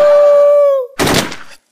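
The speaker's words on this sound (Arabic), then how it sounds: "رصاص." A short burst of gunfire, about half a second of loud, rapid cracking shots, right after a sustained wailing tone fades out.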